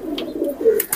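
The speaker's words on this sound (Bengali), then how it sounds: "আপনার বলতেছে যেটা গলালাল কবুতর" Red-necked golalal high-flyer pigeons at a loft in Khulna give a short, close, soft cooing call that stands alone.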